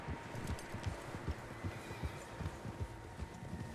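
Several horses gallop in the Red Dead Redemption video game, their hoofbeats forming a quick, rhythmic clip-clop of repeated thuds under a light background wash, with no talking.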